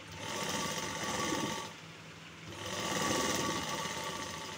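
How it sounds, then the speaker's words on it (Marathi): A sewing machine stitches the neckline edge of a blouse, a steady close whirring run that eases briefly in the middle before picking up again, with no talk over it. "गळ्याला टिप मारून घ्यायची आहे"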